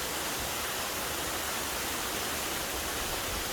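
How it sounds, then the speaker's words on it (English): Three Sisters Waterfall in inland San Diego gives a steady, broad hiss of rushing water, close and constant, with no voices. "I made it out here to Three Sisters Waterfall in inland San Diego."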